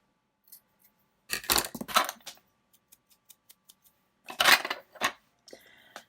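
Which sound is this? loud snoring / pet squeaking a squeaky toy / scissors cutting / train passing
scissors cutting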